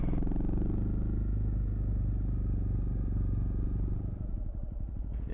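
Honda CRF250L Rally motorcycle fitted with a MotoX exhaust, ridden at steady speed: a continuous loud engine drone with wind rumble and some clatter, holding constant for several seconds before a slight shift near the end.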